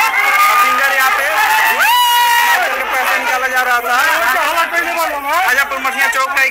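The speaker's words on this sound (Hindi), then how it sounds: "पूरे ग्रामीण यहाँ पे भीड़ लगा के जमा है।" Villagers crowded at a road junction produce a loud, continuous babble of overlapping voices and shouts that stays close and dense throughout, with some rising cries.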